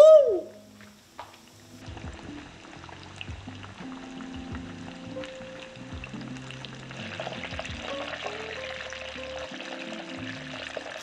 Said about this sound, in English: But I'm only frying up one fish, so I didn't feel like using a ton of oil to fill that pan up